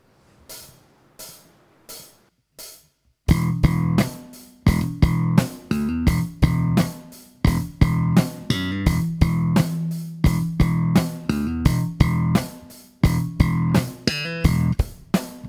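A punchy slap bass guitar plays a percussive, syncopated riff with sharp plucked attacks and rests, starting sparse then settling into a busy repeating groove.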